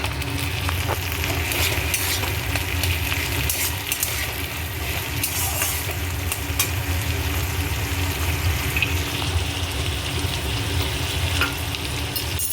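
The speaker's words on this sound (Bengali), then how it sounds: "পেঁয়াজগুলো হালকা বাদামি করে বেঁধে নিয়েছি এর মধ্যে আমি কেটে রাখা একটা টমেটো দিয়ে দেবো" Chopped tomato goes into lightly browned onions frying in a pan. A dense, continuous sizzle with occasional stirring scrapes stays close and steady throughout.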